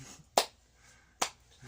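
A person imitates a slow clap with two single, sharp hand claps nearly a second apart, close and isolated in otherwise quiet room tone, with no talking.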